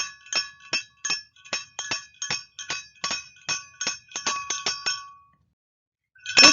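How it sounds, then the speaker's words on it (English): A cowbell is struck in a quick, uneven rhythm, about twenty bright metallic hits over five seconds. Silence follows, then one more strike at the end. "It's a cowbell."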